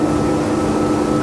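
A Saxdor 270 motorboat runs at about 43 knots and 6,000 revs with its trim raised, its engine a steady, loud drone with a constant tonal hum and continuous water rush, heard close and alone.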